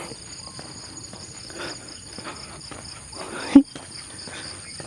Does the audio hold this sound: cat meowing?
no